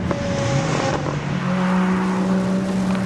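A 500-horsepower Volvo S60 Polestar on summer tires powers along a snowy road, its engine holding a steady droning tone that climbs slightly under acceleration, heard from inside the car with constant road rumble.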